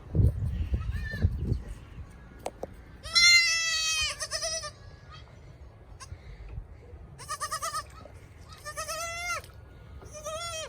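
A nervous mother goat bleats alongside her newborn kids in a windy farm shelter, giving several loud, wavering calls in short bursts after a few quiet seconds of rustling.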